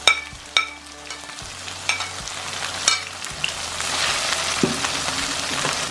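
Garlic and onions sizzle in hot oil in a pan, with sharp clicks and scrapes of stirring at the start giving way to a steady, close frying hiss that swells toward the end. No one speaks.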